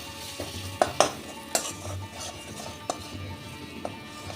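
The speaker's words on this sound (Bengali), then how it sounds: "দিয়ে আঁচটাকে কম করেই মশলাটা একটু ভেজে নেব" Turmeric and Kashmiri chili powder frying in a pan on low flame, a soft sizzle under a series of sharp metallic clinks and scrapes from stirring, spaced irregularly, close and fairly quiet.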